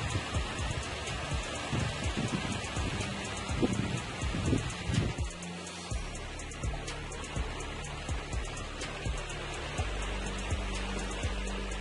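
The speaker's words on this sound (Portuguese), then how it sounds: "Essa chuvinha, ela dá um pouquinho de conforto pra gente, porque pra apagar um pouquinho a poeira das plantas." Light rain falling on plants outdoors during a gusty storm, a steady soft patter with rustling foliage and occasional low wind rumbles, heard alone without talk.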